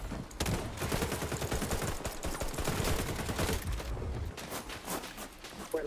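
Rapid automatic gunfire in the shooter game XDefiant, a dense sustained burst lasting several seconds with loud close shots, then a brief pause before more scattered fire.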